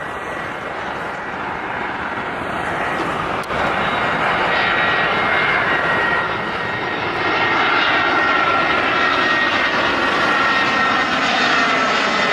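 A fixed-wing airplane passing low overhead on approach to Rome airport, its engine roar loud and sustained, swelling gradually as it draws nearer.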